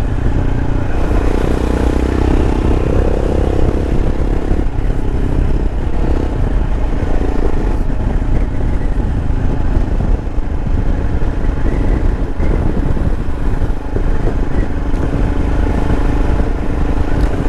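A 2021 Royal Enfield Himalayan single-cylinder motorcycle runs continuously while being ridden, its engine thrumming loud and close under steady wind and road rumble, with no talk.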